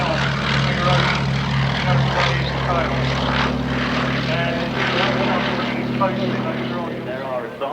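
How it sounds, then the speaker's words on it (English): A Westland Lysander propeller aircraft takes off at a heritage air show, its engine a loud, steady drone filling the whole stretch and easing slightly toward the end, with a commentator speaking over it. "The distinctive feature of the Lysander is it takes off in that total round configuration."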